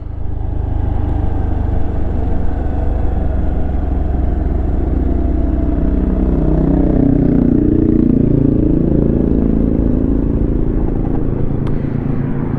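A Honda Activa BS6 scooter engine runs continuously close by with a steady drone and some clatter as it burns off the last of its fuel after a 500 ml mileage run. No voices.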